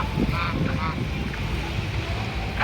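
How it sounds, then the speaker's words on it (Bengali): Ducks walk along the seashore at night, giving a few short nasal quacks close by over steady background noise, with some faint voice-like sounds mixed in. "এই যে সমুদ্রের পাশ দিয়ে হাঁস হেঁটে বেড়াচ্ছে"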